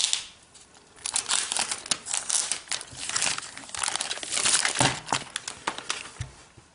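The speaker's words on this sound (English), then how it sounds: "let's go ahead and peel off this plastic" Protective plastic film being peeled off a Logitech Ultrathin iPad keyboard cover, a close, continuous crinkling and crackling that comes in uneven bursts over several seconds with no talking.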